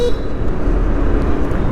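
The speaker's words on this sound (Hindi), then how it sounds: "इधर बहुत ट्रैफिक लग रहा है आजकल" Dense road traffic rumbles loud and close around a Hero Xoom 125 scooter on a busy commute, with a brief horn toot at the start and a steady engine drone beneath.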